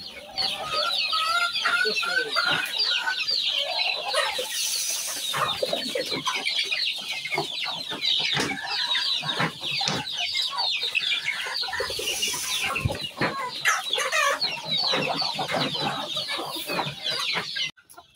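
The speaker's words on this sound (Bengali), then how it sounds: "আমি আমার সব মুরগির খাবার দিয়ে দিতেছি।" Many farm chickens being fed cluck and chatter continuously close by, a busy overlapping flock sound with occasional louder squawks throughout.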